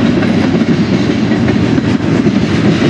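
A CSX manifest freight train passes close by at the Fostoria Iron Triangle junction, giving a loud, continuous rumble with rhythmic clickety-clack of wheels over rail joints.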